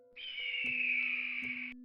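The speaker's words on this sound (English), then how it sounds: "An animal call. A bird call in the middle of the night." A bird calls at night with a single sustained, high whistling note lasting more than a second. It sounds fairly close against a quiet background with a low steady tone under it.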